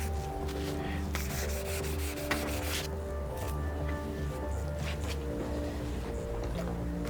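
Steady wet sanding scrapes on car paint, close and continuous, over a constant low background hum.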